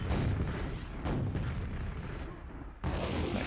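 Rockets explode in a Quakeworld duel, heavy booming blasts rolling over a noisy game backdrop, with a sharp new burst near the end.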